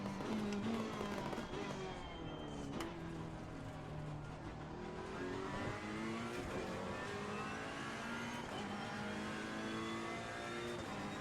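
Race car engine in Assetto Corsa Competizione, droning steadily through a lap with rising and falling pitch as it revs and shifts, loud and continuous for the whole stretch.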